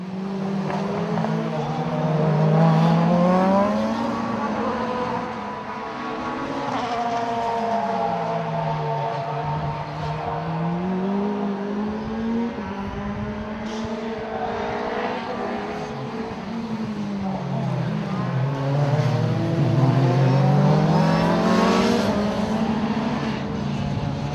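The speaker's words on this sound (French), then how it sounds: "Sur la piste, Julien Schell, David Zollinger, Ander Villarigno, Philippe Asbrook et Philippe Thirion cravachent pour déloger l'équipage IRS qui mène la course parfaite." Race cars circulate on the track during a three-hour European endurance race, engines rising and falling in pitch as cars pass close by one after another, a loud continuous roar with no talk.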